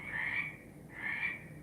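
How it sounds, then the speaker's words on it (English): Frogs croak outdoors in two long, steady pulsing trills, moderately loud over a soft background hum. "Listen to those frogs."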